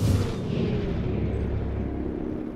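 A booming gunshot in the video game XCOM: Chimera Squad, loud and deep at the start and then rolling on in a long rumbling decay without any speech.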